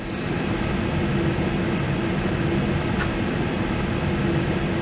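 Flight-simulator airliner engines spooling up for takeoff in a home cockpit, a loud steady roar with a constant hum, close and continuous with no talk.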